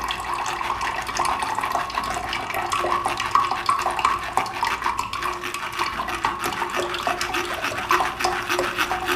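Watermelon juice pours steadily through a strainer into a jug, a continuous close splashing trickle with faint clinks of the utensils and no voices.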